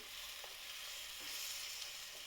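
Chopped organic tomatoes and turmeric fry in a pan with a steady, even sizzle. The sound is faint and continuous, with light stirring and no speech.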